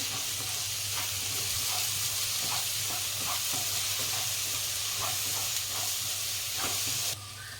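Paneer bhurji frying in a pan as salt is stirred in, a steady loud sizzle with soft scraping stir strokes scattered through it, ending in a quieter hiss.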